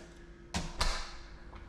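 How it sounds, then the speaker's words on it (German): A door being pushed shut, heard as two close, solid thuds about a quarter second apart against a faint steady hum, with no talking. "Machen wir mal die Türe zu."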